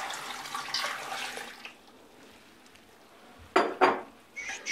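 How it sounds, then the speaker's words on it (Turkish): Water from a jug poured over pumpkin pieces in a pot for a Hatay-style pumpkin dessert gives a splashing gush for under two seconds, then a quiet pause and a few clinks and knocks of the pot and jug. "Şöyle bir sürahi suyunu koyuyorum."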